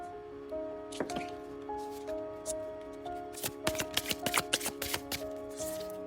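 Tarot cards being shuffled by hand, soft riffling bursts that grow into a rapid run of flicks near the middle, over a quiet steady hum in the background.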